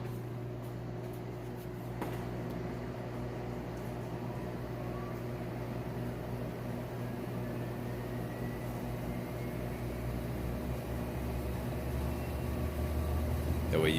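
A Hotpoint top-loading washing machine spins fast with its lid closed, giving a steady, smooth motor hum and whir that builds slightly over time, heard up close as one continuous drone.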